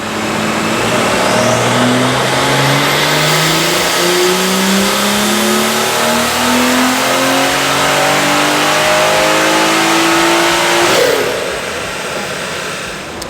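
A BMW F30 340 turbo engine revs hard on a dyno and climbs steadily in pitch for about ten seconds, loud and close, then cuts back abruptly to a lower drone.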